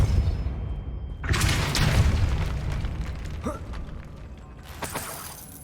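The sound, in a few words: Depulso spell cast in video game Hogwarts Legacy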